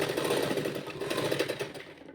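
A sewing machine runs a continuous stitch along the shoulder seam of a churidar top, a close, steady rapid mechanical whirr that eases off at the end, no voices.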